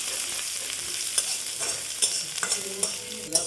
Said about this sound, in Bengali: পেঁয়াজ দিলাম একটা, পেঁয়াজটা একটু লাল লাল করে ভেজে নেবো।